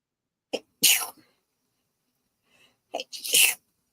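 Two sharp sneezes, each with a quick breathy intake before the burst, separated by about two seconds of silence and heard close up.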